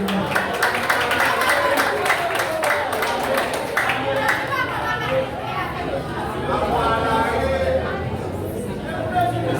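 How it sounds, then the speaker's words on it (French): Applause and scattered clapping from an audience at a Haitian beauty pageant final, steady and fairly loud throughout, mixed with crowd chatter and voices. "Je vous demande de l'applaudir, s'il vous plaît."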